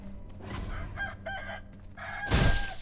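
A rooster in the video game Sekiro clucks and crows in short, fairly close bursts, ending with a louder squawk near the end.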